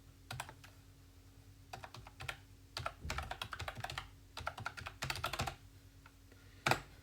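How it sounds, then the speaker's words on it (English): Typing on a computer keyboard comes in quick bursts of crisp key clicks separated by short pauses, close and quiet, with one louder final keystroke. "So if you just type in the same login details,"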